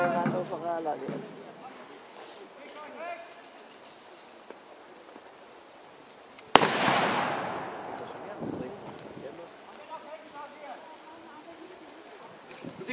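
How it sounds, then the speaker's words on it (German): A single sharp, loud rifle shot from historical muskets at a baroque battle reenactment in Bückeburg, ringing out with a long decaying echo, amid a crowd and spoken commentary. "Die Jäger schießen sehr langsam,"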